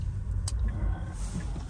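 Cars pass along a road nearby, a low steady rumble of tyres and engines with a few brighter swishes layered over it.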